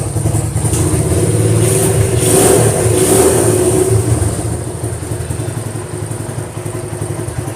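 Old Honda CB motorcycle with original engine and carburetor revving up loudly close by, rising to a peak then settling back toward a steady mid-pitched idle with some mechanical clatter.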